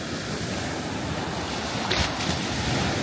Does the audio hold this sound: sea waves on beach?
yes